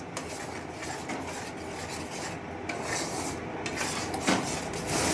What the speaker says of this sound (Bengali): সমস্তটা আবারও একটু নেড়ে চেড়ে মিশিয়ে নেব।